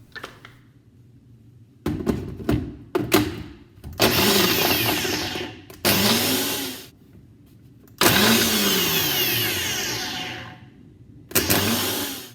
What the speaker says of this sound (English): With the blender it's definitely quicker.